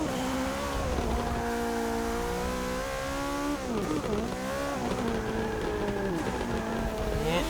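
Race car engine revving high toward 8,000 RPM inside the cockpit in Forza Motorsport 6, a continuous loud whine rising and falling with gear changes, no talk.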